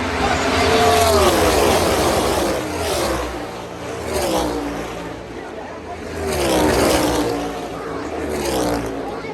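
NASCAR Xfinity and Cup Series race cars roaring around Charlotte Motor Speedway, engines rising and falling in repeated sweeping waves as the pack passes, loud and continuous under a commentator's voice.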